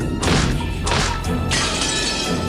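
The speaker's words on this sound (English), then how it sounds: "the glass smashed with a violent sound and the frame groaned and creaked" Glass shatters violently as a chair is slammed into a window in a video game, loud crashing bursts repeating over and over with no voices.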